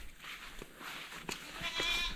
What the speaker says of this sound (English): The old goats, they're a bit quieter.